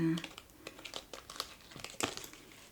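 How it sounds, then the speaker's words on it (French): Fingernails picking at a sticker and peeling it free, giving soft crinkly crackles and short tearing scratches in an uneven run, fairly quiet and close, with a brief voice sound at the start. "décoller un autocollant avec les ongles"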